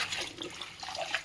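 Amaranth leaves are swished up and down in a bowl filled with water, making close, soft splashing and sloshing with small trickles, continuous and without speech.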